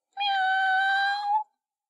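A person imitates a cat with a single sustained, steady meow lasting over a second, clear and close, followed by silence.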